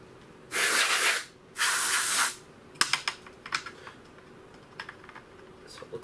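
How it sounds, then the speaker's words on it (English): Two sustained bursts of canned air sprayed onto the electronics of a Samsung 50-inch plasma TV during repair, each about a second long and loud, followed by faint scattered clicks and handling taps. "Blast them with some canned air."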